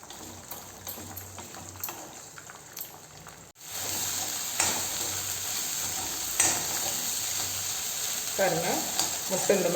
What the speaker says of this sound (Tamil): இந்த 3 முட்டையும் நம்ம பொரிச்சு எடுத்துக்கலாங்க.